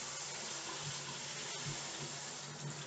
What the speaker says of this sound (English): And I preheated my tap. So this is just tap water.